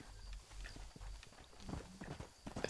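Horse hooves clip-clop at a steady walking pace in the Red Dead Redemption video game, fairly quiet and close, with no talk over them.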